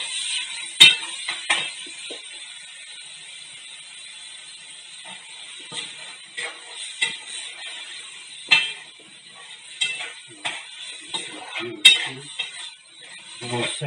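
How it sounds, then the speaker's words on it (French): Food is stirred in a cooking pot with a utensil, giving intermittent clinks and scrapes against the metal, fairly close, spaced irregularly with quiet gaps between. "on remue."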